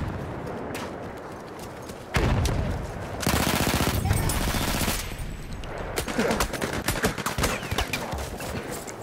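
Machine gun fire in the shooter Frontlines: dense, loud bursts of rapid automatic shots in several sustained volleys with short gaps between them, plus scattered single cracks, no speech.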